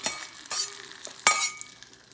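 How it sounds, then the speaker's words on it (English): A pan being seasoned sizzles after fifteen minutes of sautéing on medium heat, with a steady close hiss and a few sharp scraping or clinking accents. "this is how this looks like after 15 minutes of sauteing in medium heat"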